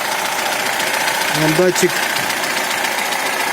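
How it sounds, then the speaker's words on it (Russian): A VAZ 2105 fuel-injected engine runs at a steady idle, a constant mid-pitched drone, while someone speaks briefly over it. "Так работает мотор."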